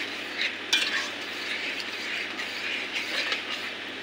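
Flour stirred into a boiling mushroom soup in a pot, a steady soft bubbling simmer with scraping stir strokes and small splashes throughout, close and moderately loud.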